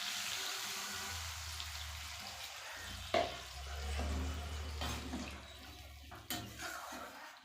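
Water is poured into a simmering fish and eggplant curry in a pan, a soft, close splashing and hissing over a low background hum.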